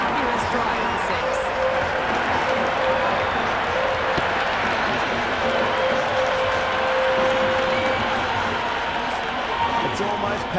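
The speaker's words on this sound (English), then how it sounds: "It's almost palpable, the excitement emanating from this crowd at the moment." A video-game cricket crowd roars and applauds in a constant wash of noise under an excited commentator's voice.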